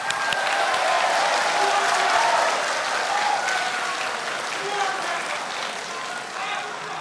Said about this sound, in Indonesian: Anda silakan tepuk tangan.